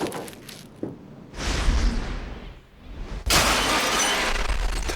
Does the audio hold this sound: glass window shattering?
yes